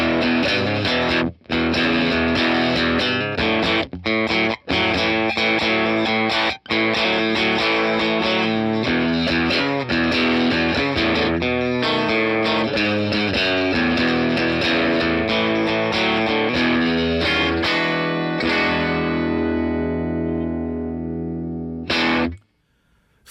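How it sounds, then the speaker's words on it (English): Electric guitar driven into overdrive through a Fender Blues Jr. 1x12 combo amp model, a loud, sustained crunchy chord-and-riff passage with a few short breaks, ending in a ringing fade and one last stab. "Fender's Blues Jr. is a highly popular 1x12 combo with distinctive preamp gain for incredibly satisfying overdriven tone."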